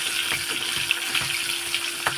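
Chopped tomato and slit green chillies sizzle in hot oil with black cumin in a wok, a dense, steady close frying hiss with small crackling pops and no talking.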